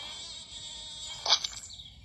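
A thin, whining insect buzz from a bee in a video game drones steadily, then swells briefly into a louder, closer burst before fading back, with no voices.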